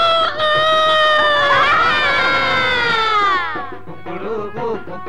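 A rooster crows loudly and close by: one long, drawn-out call that rises, holds and then trails off into a rougher, fading tail.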